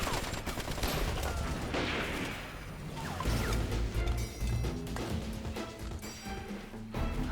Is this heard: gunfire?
yes